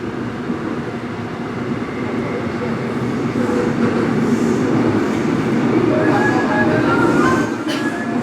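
Subway train running steadily throughout, a loud continuous rumble and rattle of wheels on rails with faint clickety-clack, heard from aboard a metro car with no one talking.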